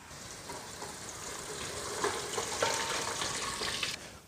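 Tofu balls deep frying in hot oil, a steady close crackling sizzle with a brief stir in the middle, ending abruptly with a clunk.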